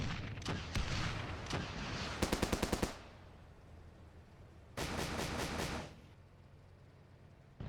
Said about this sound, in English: IFVs are working with their autocannons, scout teams, ATGM teams which have machine guns also start working